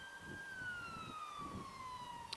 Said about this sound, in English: Oh, it's fire engine.